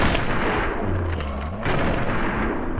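Grenade launcher firing in the Fallout Tale of Two Wastelands video game, a loud booming blast with a dense, rumbling body that fills the whole moment, heavy and close, with no talking over it.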